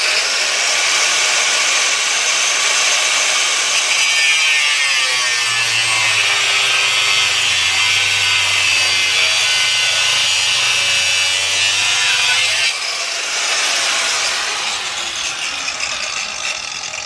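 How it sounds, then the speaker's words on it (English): Cutoff wheel grinding through a bolt, a loud sustained harsh abrasive whine with a rising and falling pitch sweep midway, continuing alone for over a dozen seconds before the pitch changes near the end. "it cut off that bolt and it didn't even actually use the entire surface of the wheel"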